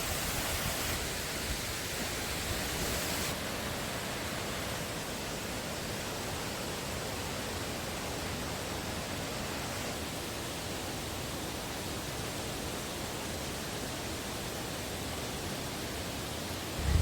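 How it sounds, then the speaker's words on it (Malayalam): A river flows downstream from a waterfall in Kanger Valley. The water makes a steady, even rushing roar that fills the whole stretch without a break, with no voices. "ഇത് നദി താഴോട്ട് ഒഴുകി പോകുന്ന ഭാഗമാണ്."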